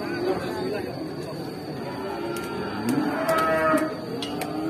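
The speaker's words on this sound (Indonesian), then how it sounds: "Sapinya teman-teman." Cattle at a livestock market moo loudly and close by, with a couple of drawn-out lowing calls over a background of crowd chatter and people talking.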